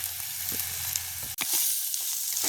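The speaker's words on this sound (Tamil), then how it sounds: "பாருங்க இப்படி நல்ல வடிவாக வதங்கி வந்துட்டாண்டு." Shrimp thokku masala fries in a pan, a loud steady sizzle broken by a few scraping stirs and a brief drop in the middle.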